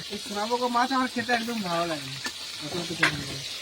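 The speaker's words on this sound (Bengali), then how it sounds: "আমরা এই মুহূর্তে রান্না করছি ভাজা হচ্ছে সোনাবগো মাছ" A steady crackling sizzle of sona bogo fish frying in a pan, running under a person talking throughout, at an outdoor picnic in the Sundarbans.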